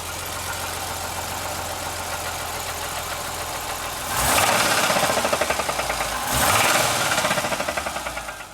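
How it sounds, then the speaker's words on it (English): An idling engine with a worn rod bearing runs with a steady rapid ticking, then revs twice, each rise bringing a louder rhythmic knocking that fades as it settles. "it has an engine knock, a rod bearing"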